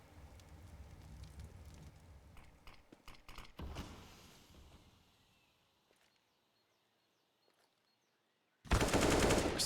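Counter-Strike match gunfire on the Inferno map: rapid automatic sprays of rifle shots crackle for several seconds, fade into near silence, then a loud burst of fire returns at the end.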